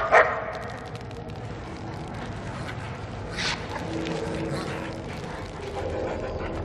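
A dog barks in the Mad Max PC game: a sharp yip at the start and a second brief bark midway, over a steady rumbling game ambience.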